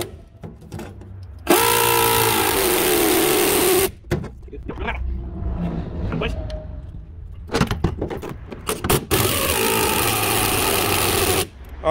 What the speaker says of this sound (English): These air ratchets usually aren't strong enough to get them all the way tight